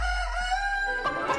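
A rooster crows loudly and close by, one drawn-out call with clucking hens around it, at an amusement park setting.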